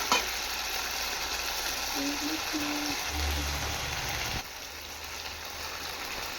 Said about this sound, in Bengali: এবার আমি চিকেনগুলো দিয়ে দেবো। ভালোভাবে কষাবো আমি চিকেনটা।